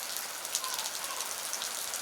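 Rain falls steadily during the dry season, a dense, even hiss of drops close by with no pauses and no voices.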